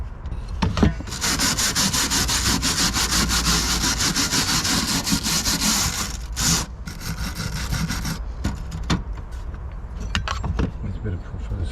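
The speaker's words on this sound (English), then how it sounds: "Let's give this a bit of a scrub." Brush scrubbing a stored timber open mesh beehive floor that carries some propolis, making a continuous, close and fairly loud rasping scrub with short pauses between strokes.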